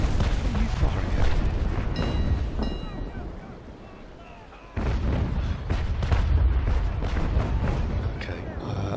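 Carronades firing from a naval brig in Naval Action Legends, with repeated booming cannon blasts and heavy rumble at sea that ease briefly midway and then resume loudly.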